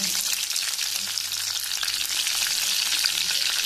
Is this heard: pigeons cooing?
no